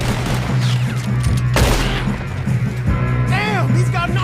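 Gunfire crackles through a Red Dead Redemption 2 shootout during a train robbery, shots layered over steady game music and ambience, with a heavy blast near the middle and voices calling out.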